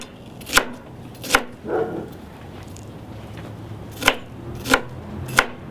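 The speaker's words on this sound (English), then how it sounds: "Now I'm going to take some onion, just regular white onion, and I'm going to just cut it up" A knife chops through regular white onion on a cutting board, five sharp separate thuds landing close and loud with uneven gaps, plus a softer scrape, and no one speaks.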